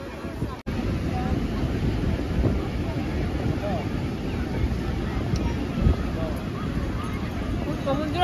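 Steady sea wind buffets the microphone on Puri beach, a continuous low rushing roar with a brief dropout near the start and faint voices mixed in.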